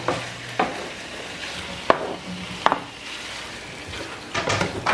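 Chicken pieces frying on high heat with ginger and garlic in a pan for Chinese-style noodles, a soft steady sizzle punctuated by a few sharp utensil clacks and scraping stirs.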